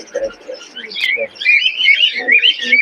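Pigeons at a crowded pigeon market in Khulna, with soft cooing and scattered chirps and calls from nearby birds mixing together, over a steady busy background.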